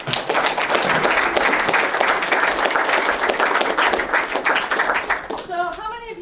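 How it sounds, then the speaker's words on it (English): An audience gives a sustained round of applause, dense clapping filling the room for about five seconds before it fades and a voice begins speaking at the end. "can we give him a round of applause?"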